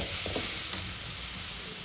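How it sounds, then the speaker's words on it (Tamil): Tomatoes sautéing in oil in a pan for a Chettinad eggplant curry, a soft steady sizzle with a couple of quick stirring scrapes and one sharp tap, heard up close and quiet. "இப்போ தக்காளி வந்து நல்லா கூழ் பதமாக வதங்குற அளவுக்கு நல்லா வதக்கிக்கோங்க."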